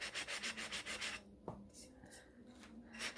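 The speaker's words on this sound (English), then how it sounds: "So with just a little bit of sanding, we're going to get some of this white paint off of here." Hand sanding white paint off a wooden paper towel holder, quick rhythmic rubbing strokes close up that pause briefly midway with a light knock, then resume more softly.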